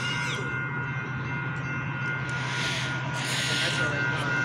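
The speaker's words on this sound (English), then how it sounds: "or is that, yeah, that's Metrolink." Metrolink commuter train passing through 17th Street, a steady loud rumble with hissing and a long sustained tone, continuous throughout at close range, with people talking faintly underneath.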